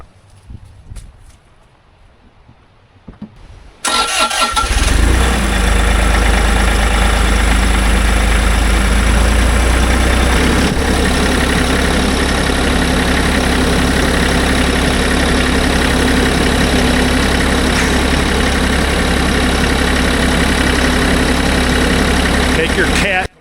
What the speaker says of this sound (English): This engine is a Bobcat engine. It has no regen. It sat through the winter at least 4 months.